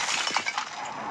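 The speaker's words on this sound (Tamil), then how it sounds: "இது உடையிற சவுண்ட் கேட்டு" Glass shattering in the horror video game The Baby in Yellow: one short, bright crash with clinking fragments, close and loud, fading over about a second with no talk.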